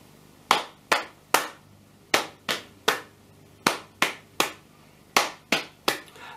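Hands clap the We Will Rock You rhythm, with sharp, close claps arranged in repeated uneven groups against a quiet background.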